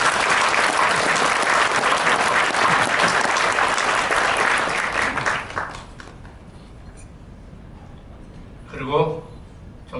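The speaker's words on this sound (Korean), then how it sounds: "여러분 우리 유 원장님께 큰 박수 한번 부탁드립니다" Audience at a Korean-American business friendship forum founding meeting applauding for a director, a loud sustained wash of clapping that fades out after about five seconds, followed by quiet and a brief spoken voice.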